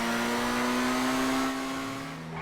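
The S80RR supercar in GTA Online revs hard, a loud, high, steady engine whine holding pitch before dropping slightly as it eases off, alone without talk.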